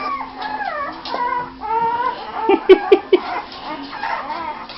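Young puppies whimper and howl in a quick run of high, wavering cries, then give a few sharp, louder yelps near the middle before settling back into softer whining. The sounds are close and clear.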